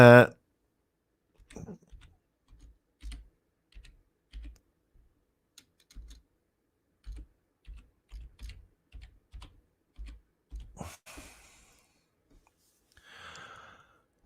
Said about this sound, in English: I've just typed it down